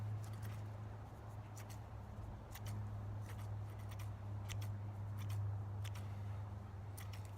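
Bad scissors cutting yarn while fly-tying a yarnie for bobber dogging, giving several short, faint snips at uneven intervals over a steady low background hum.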